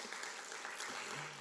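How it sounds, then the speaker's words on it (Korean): Brief, loud, dense clapping from a church congregation during a Korean Sunday afternoon worship service, filling the whole short moment without talking. "박수 한번 쳐주시기 바랍니다."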